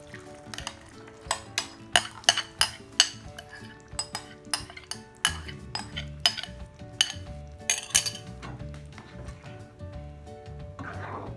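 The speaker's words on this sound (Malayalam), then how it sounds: "അടുത്തായിട്ട് നമുക്ക് അരച്ച് വെച്ച പാലക്ക് ഇതിലേക്ക് ഒഴിച്ചു കൊടുക്കാം" Ground spinach paste is scraped from a container into a pan of cooking chicken, with a rapid series of bright metal spoon clinks against cookware and soft stirring and sizzling underneath.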